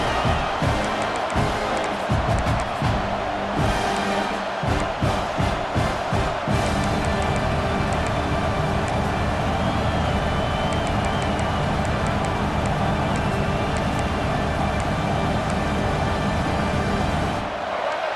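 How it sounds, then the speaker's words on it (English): A stadium crowd in EA Sports College Football 26 roars in a dense, sustained wall of noise, loud and continuous, with rhythmic thumping and clatter early on. "This crowd, full throat, splitting the eardrums and letting them know it's going to be a long day."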